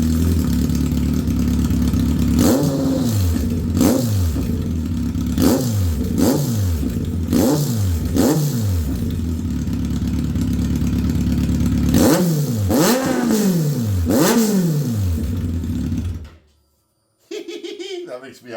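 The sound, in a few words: Kawasaki Concours 14 motorcycle engine revving without exhaust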